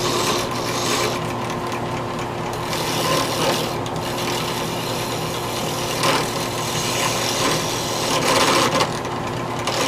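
Wood lathe cutting the lip left by a barrel trimmer on the ends of pen blanks, a steady rasping, scraping tool-on-wood noise over the constant hum of the spinning lathe, close and continuous.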